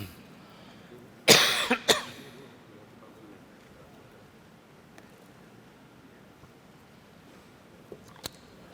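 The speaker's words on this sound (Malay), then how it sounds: "Pagi ni dah lah batuk" A man coughs in a sharp loud double burst early on, then goes quiet against a hushed room tone with a few faint clicks, at a dawn religious lecture in a mosque.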